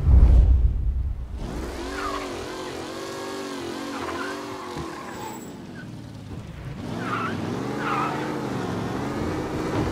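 A car in a Mafia Remake racing mission roars under hard acceleration, its engine note rising and falling through gear changes with occasional tire squeal. It stays loud and close throughout, with no voices.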